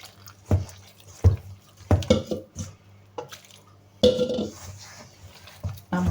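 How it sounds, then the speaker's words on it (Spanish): Warm water poured into empanada dough in a kitchen, with clinks and knocks of dishes and utensils and then a sustained splashing pour. "Vamos a agregar el agua, que está bien tibia."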